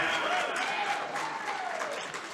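Crowd at a college men's wrestling match (U Mary versus BSC) cheering and clapping in a gym, a steady roar of voices and applause with a rising shout, fairly close.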